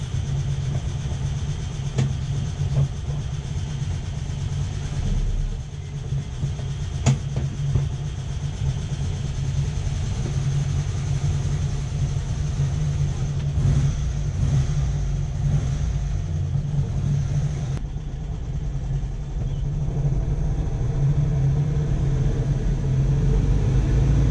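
A car engine drives around the block just after an electric fuel pump install, a steady loud low rumble with road noise that holds throughout and swells near the end, with no talking.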